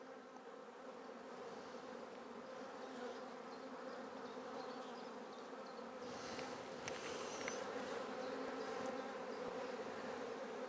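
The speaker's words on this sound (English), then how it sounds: "As you can see, nice calm bees, no running on the frame" Honeybees from a seven-week-old package colony buzz steadily at an open hive, a continuous, even drone that fills the space at moderate volume with no voices.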